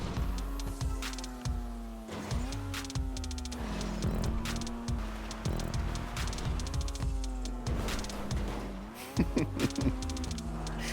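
A Maxwell Asbo car in GTA 5 Online drives a rally track, its engine droning steadily with rising and falling revs, punctuated by bumps and thuds, close and loud throughout.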